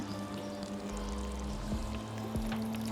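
Water pours from a public fountain in Iseltwald, Switzerland, into a container being filled, a close, steady splashing stream with an underlying hum and no talking.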